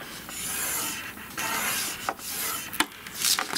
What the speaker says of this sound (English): Ooh, I'm scoring nicely.